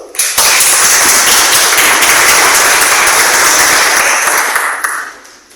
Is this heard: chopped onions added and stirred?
no